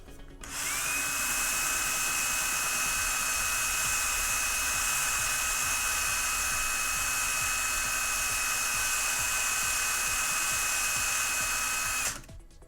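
A rotary power tool fitted with 800 grit sandpaper sands a piece of Boba Fett armor, whining in one steady, continuous run of about eleven seconds at close range, starting and stopping abruptly.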